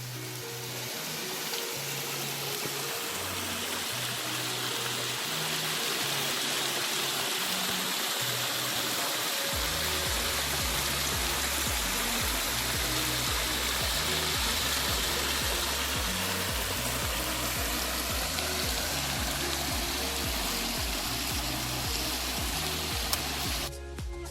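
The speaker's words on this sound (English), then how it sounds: "Now grill this fish for 5 minutes and then turn the fish and cook again for 5 minutes." A fish frying on a tawa gives off a steady, broadband sizzle that lasts the whole stretch, with music playing underneath and no one speaking.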